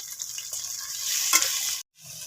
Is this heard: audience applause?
no